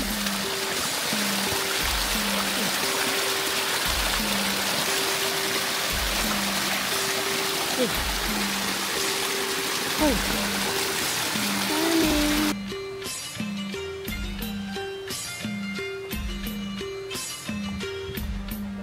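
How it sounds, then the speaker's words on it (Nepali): Water pours and rushes continuously from a waterfall into a stream in Nelson Lakes National Park, New Zealand, a dense steady roar that shifts in tone partway through. "यो चाहिँ प्योर माथि झर्नाबाट झरेको पानी हो"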